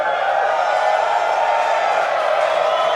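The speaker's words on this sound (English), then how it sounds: "And a lot of cheering here in Hawthorne." A distant crowd in Hawthorne cheers and roars continuously during a SpaceX Starship flight test, a steady wash of voices without any clear single sound.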